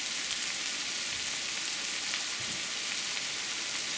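Corn fries in a pan with a steady, even sizzle and crackle, close and continuous, with no voices.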